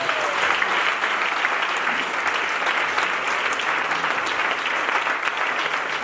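A church congregation cheers and applauds loudly, with steady, dense clapping and scattered shouts filling the room without pause.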